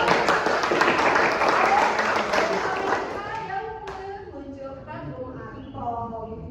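A classroom of students claps in a dense burst of applause for about three seconds, then it fades and a voice speaks.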